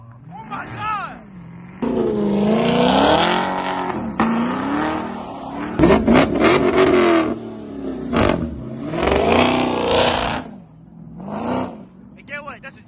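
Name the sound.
Dodge Hellcat Jailbreak engine revving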